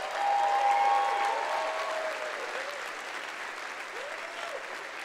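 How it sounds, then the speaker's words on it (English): Steady applause from an audience at a 2017 commencement ceremony, honoring the parents in attendance; broad, even clapping that swells briefly then holds at a moderate level throughout, with no talk over it. "let's give a round of applause to all our parents who are here."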